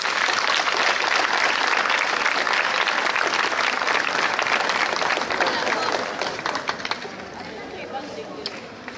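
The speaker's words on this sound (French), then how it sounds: "Vous pouvez vous applaudir." A crowd applauds steadily and loudly, the clapping thinning and fading toward the end.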